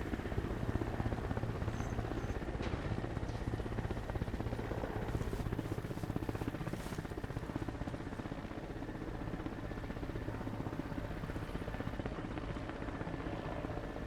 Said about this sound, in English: I will be able to use the helicopter sound to my advantage to cover my shots